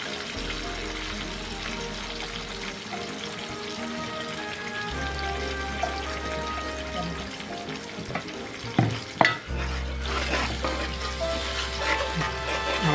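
Fish curry with chutney is stirred in a pan over raised heat. A loud, steady frying sizzle runs throughout with intermittent scraping of the spoon and a low hum. No speech is heard.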